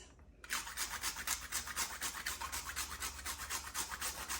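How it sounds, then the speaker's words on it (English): Rhythmic rasping strokes of a grater scraping a topping onto Jamaican cornmeal porridge, close and steady after a brief quiet start. "You want to grate as much as you like."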